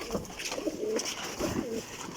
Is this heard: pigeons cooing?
yes